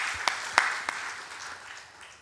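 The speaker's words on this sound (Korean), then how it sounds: "우리 축하하고 감사하다고 박수하겠습니다." Brief, scattered clapping from a church congregation during a Sunday service, a few sharp claps that quickly thin out and fade, moderately distant in a reverberant hall.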